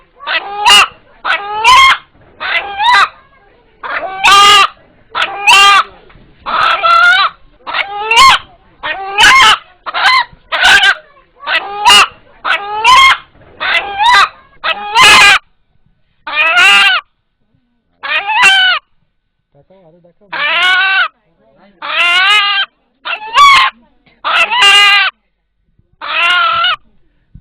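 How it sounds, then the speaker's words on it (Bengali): An eight-month-old rooster gives a rapid run of loud, close crowing calls, first as short bursts in a dense series and then as longer, drawn-out calls with brief pauses between them. "এখানে উপস্থিত যারা এই মোরগের ডাক শুনলেন"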